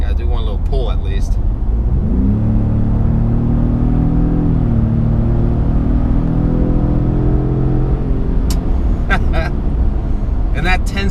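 A 2018 Ford Raptor truck with a 10-speed transmission pulls on a highway, its engine rumbling steadily and rising under constant road noise, with someone talking over it throughout.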